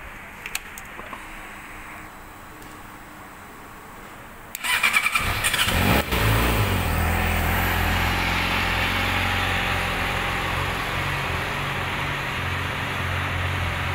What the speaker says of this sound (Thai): เดี๋ยวผมจะพาไปฟังเสียงเครื่อง